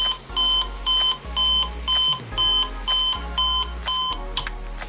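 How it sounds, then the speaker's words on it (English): The Geekhouse 5S alarm clock sounds through the same speaker as its radio, giving a loud, regular series of about nine short electronic beeps in an even rhythm, alone with no talking. "it even has an alarm that gradually gets bigger, so you don't wake up the whole house when it starts beep, beep, beep, beep"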